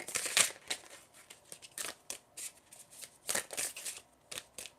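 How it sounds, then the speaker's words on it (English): Tarot cards are shuffled close up in a quiet room, with repeated soft riffling bursts and light papery flicks coming in an uneven rhythm at low volume. "Just going to shuffle to see if anything else comes up."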